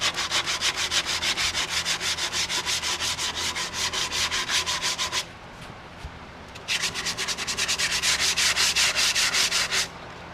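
Close, rhythmic strokes of sandpaper rub back and forth along the edges of a wooden cutting board, steady and loud, with a brief pause midway before the strokes resume.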